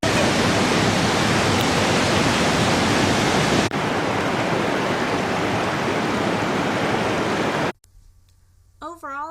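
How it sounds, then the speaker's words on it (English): Roar of Gold Creek Lower Falls close by, a loud, steady broadband rush of falling water for most of the clip before it cuts to a quieter scene where a voice is briefly heard. "we made it to the Lower Falls and were thoroughly sprayed with mist as soon as we arrived"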